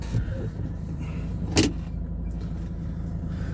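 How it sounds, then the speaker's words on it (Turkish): A car creaking and rattling as it pulls into a garden, with a low engine drone throughout and one sharp clunk or squeak partway through, heard close. "Gördüğünüz gibi arabanın her tarafı ötüyor."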